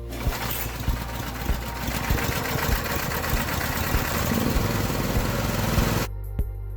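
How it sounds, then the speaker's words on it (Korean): A small cultivator tiller engine runs steadily at a close, buzzing idle, burning off its remaining fuel until it cuts out abruptly near the end, leaving near silence. "시동을 걸어 자연이 꺼질 때까지 연료를 모두 소모시킵니다."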